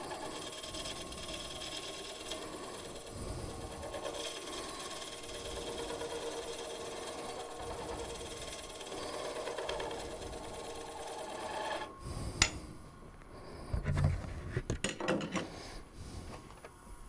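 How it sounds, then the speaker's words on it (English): Turned wooden piece being sanded on a woodturning lathe: a steady whirring hum with continuous abrasive rubbing, moderately loud and close, then a few sharper knocks and handling sounds near the end. "A little bit of sanding."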